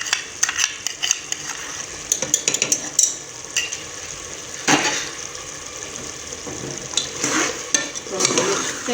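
Beaten yogurt being stirred into beef korma in a pot brings busy scraping and clattering of a spoon against metal, with a soft sizzle underneath and bursts of wet mixing, heard close.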